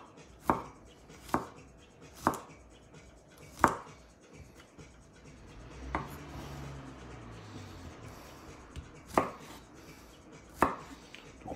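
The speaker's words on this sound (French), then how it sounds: "Son ail, on va venir la couper, mais pas finement." A knife coarsely chops garlic on a cutting board in slow, separate strikes, about eight sharp knocks spaced unevenly with quiet pauses between.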